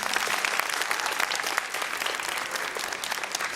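An audience claps steadily for an event committee's organisers, a dense, even patter of many hands filling the room for several seconds with no talk over it.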